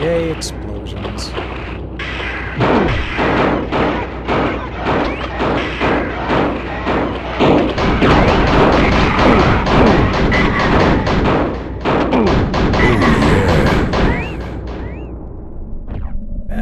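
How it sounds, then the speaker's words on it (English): Repeated booming explosions and heavy thuds from a Duke Nukem PlayStation video game, loud and dense through most of the stretch, with game effects layered on top. "Yay, explosions."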